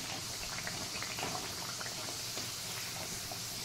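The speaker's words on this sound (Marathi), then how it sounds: "5 ते 10 मिनिटं आपण मंद आचेवरती तळून घेणार आहोत" Spinach and pea kachoris deep-frying in oil over a low flame, giving a steady, dense bubbling crackle with tiny pops throughout, fairly close and even in level, with no talking.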